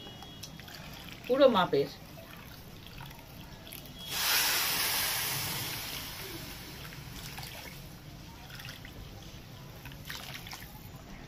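Water is poured into a pot of fried rice for basanti polau, a soft gushing stream that swells and fades over a few seconds, with someone talking briefly before it.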